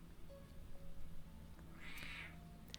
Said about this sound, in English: as Thief Kitty howls in the background